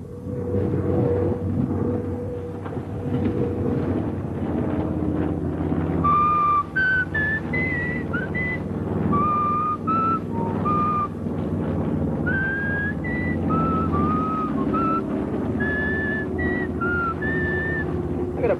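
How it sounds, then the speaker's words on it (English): A man whistles a wavering, sliding tune in repeated phrases over a steady droning background, from a World War II era pilot safety training film featuring the F4F Wildcat fighter plane. "I gotta practice up my whistling."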